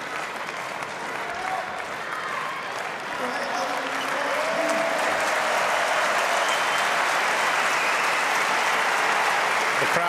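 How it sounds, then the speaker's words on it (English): Crowd applauding at a 2011 German Open men's singles table tennis semifinal, sustained dense clapping that swells louder midway and continues steadily, with a commentator talking over it. "The crowd very appreciative of the sportsmanship displayed by Marlin"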